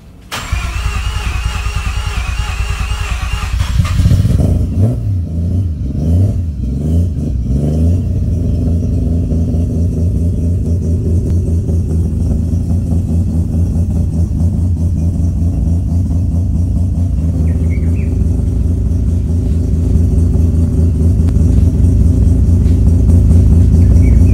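A Nissan Skyline R32 GT-R engine cranks briefly and catches a few seconds in, then keeps running loud and close with a steady, rumbling idle and mild revs for the rest of the clip.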